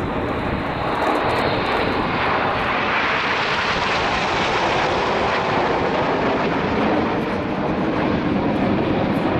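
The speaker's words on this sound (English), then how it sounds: "to commemorate 70 years since the Dambusters, this is Lancaster" Avro Lancaster bomber flying past at the Royal International Air Tattoo 2013 airshow, marking 70 years since the Dambusters raid. A loud, sustained, rumbling engine roar holds steady throughout with no break.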